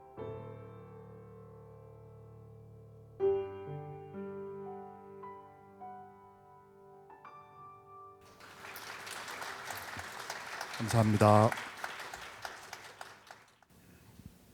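An audience at a lecture event applauding after a song, a broad wash of clapping that swells after sustained piano-like chords fade, with a brief spoken thanks near the peak.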